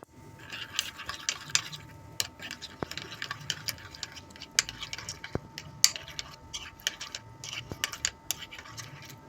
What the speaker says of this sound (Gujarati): તેમાં આપણે થોડી હળદર ઉમેરી દઈશું અને એને મિક્સ કરી દઈશું.